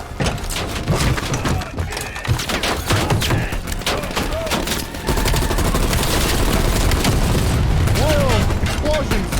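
Rapid gunfire and booming blasts from the video game Call of Duty: Black Ops Cold War campaign fill the scene, loud and dense, with a voice talking over the action.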